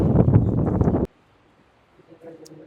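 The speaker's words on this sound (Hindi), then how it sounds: "बहुत हवा चल रही है" Strong wind gusts buffet the microphone outdoors at a temple beside Brahma Sarovar, a loud rough rumble for about a second that then drops abruptly to near silence.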